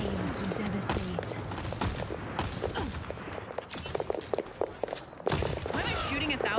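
Rapid bursts of video game gunfire from Overwatch crackle in dense, irregular volleys with sharp transients, running continuously over a busy game soundscape with chatter mixed in.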